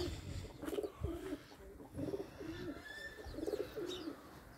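Pigeons from near Warsaw cooing in a loft, soft throaty coos repeating in short phrases close by, with light rustling and no talk.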